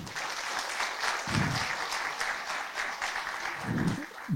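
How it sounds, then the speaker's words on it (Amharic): An event audience applauds steadily for several seconds, a dense even wash of many hands clapping at once with brief low thumps mixed in, no speech over it. "ሁላችሁም ለራሳችሁ ክብሩን ሰዱ አጨብጭቡ"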